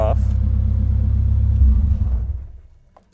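Volvo 240 engine idling loudly with a deep steady rumble that dies away over about a second as it is switched off, leaving near silence.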